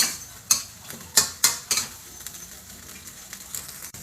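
Curry paste being stir-fried in a large pot, a soft continuous sizzle broken by several loud scraping clatters of a spoon or ladle against the metal, close up and without talk.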